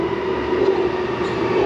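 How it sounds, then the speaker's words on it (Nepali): A Sydney Metro driverless train pulls into the platform with a steady, moderately loud rumble and hum that holds evenly throughout, with no talking. "Alright guys, मेट्रो आउँदैछ."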